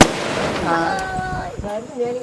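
Diwali firecracker rockets whistle and crackle outdoors, with a sharp burst at the start and rising siren-like whines, while people talk over the noise.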